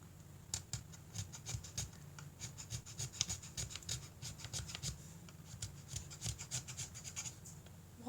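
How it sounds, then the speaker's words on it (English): A Rio Rondo carbide scraper draws along a model's seam in a steady run of short, close rasping strokes, quiet and repeated with no talking. "And we just scrape along the seam,"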